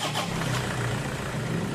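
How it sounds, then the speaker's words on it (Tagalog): A Toyota Hilux engine turns over and catches, a short, close mechanical rumble that settles into a steady running hum. "O, pa-start na natin itong makina."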